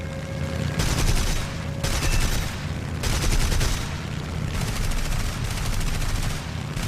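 Aircraft cannons fire in sustained, rapid bursts during a War Thunder dogfight, loud and close, with brief pauses between four or five long strings of rounds over a constant engine drone.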